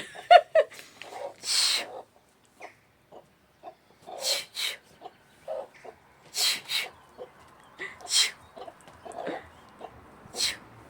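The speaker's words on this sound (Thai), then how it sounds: "เดี๋ยวไล่ไก่ก่อนนะคะ เดี๋ยว ขี้หน้าบ้าน" Chickens roam in front of a house, clucking in scattered short bursts and brief squawks at moderate distance against a quiet background.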